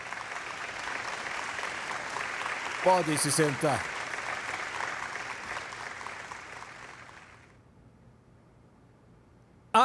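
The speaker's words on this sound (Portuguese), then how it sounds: "Dê uma salva de palmas ao Senhor" A church congregation gives the Lord a round of applause, a broad wash of clapping with brief cheers that fades out after about seven seconds, and a voice speaks briefly over it.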